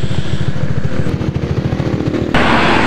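A Honda Vario 125 scooter, just repaired after a fuel pump and ignition failure, runs on a test ride: a loud, close, rapid pulsing engine putter that ends in a sudden burst of broadband noise.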